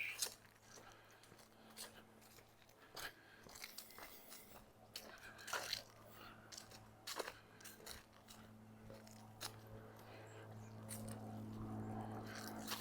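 Crunching footsteps of someone walking outdoors through a neighbourhood in Regina's Lakeview on a sunny autumn day, a steady series of close, gritty steps over a low, continuous background hum.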